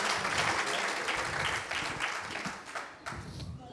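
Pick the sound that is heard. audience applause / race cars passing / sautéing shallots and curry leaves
audience applause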